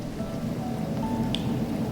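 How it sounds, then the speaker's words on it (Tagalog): Steady rain patters down, with a low rumble of thunder rolling underneath throughout, and no voices. "umuulan pa rin."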